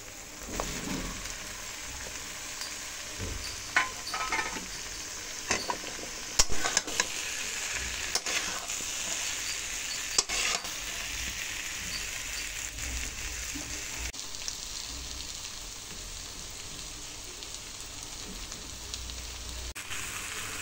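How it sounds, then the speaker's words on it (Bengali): Fried potato and pointed gourd being tipped into sizzling masala and stirred, a steady close frying hiss with scattered spoon scrapes and clinks against the pan, running on without speech. "এখন আমি ভেজে রাখা আলু আর পটলটা দিয়ে দেব।"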